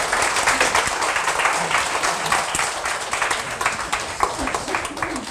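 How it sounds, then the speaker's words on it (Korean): An audience claps together before a compensation plan presentation, a lively steady patter of many hands that carries on evenly for several seconds, with a little voice murmur mixed in. "자, 박수 한번 치고 보상 플랜 시작하겠습니다."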